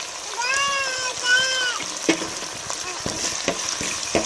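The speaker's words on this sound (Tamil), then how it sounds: "நம்மளுக்கு தக்காளி வெங்காயம் இஞ்சி பேஸ்ட்டு பச்சை மிளகாலாம் எண்ணெயிலே கொஞ்சம் நேரம் வதங்கி வரும்." Tomato, onion, ginger paste and green chilli sautéing in oil for potato rice, a steady close sizzle with stirring clatter and a brief tonal voice-like sound early on.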